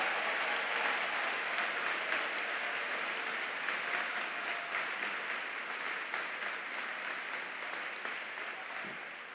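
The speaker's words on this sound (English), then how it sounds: "let's give a round of applause for all of the ETHS staff who are present for their contributions" A large commencement audience applauds school staff at a high school graduation ceremony, a sustained, even wash of many hands clapping that slowly fades slightly over its length, with no talk on top.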